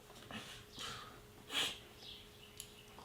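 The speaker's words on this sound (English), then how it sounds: "I'm sorry if I keep sniffing." A person sniffs several times in short, quiet bursts, with one sharper sniff in the middle and a faint steady hum underneath.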